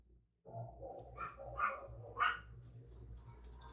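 A dog barks excitedly a few times in the distance, short muffled yaps rising over low room noise.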